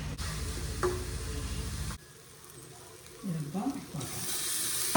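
Prawns fried in a pan with only turmeric and salt give a bright, steady sizzle that breaks off for a couple of seconds and returns. A voice speaks over the quieter middle stretch.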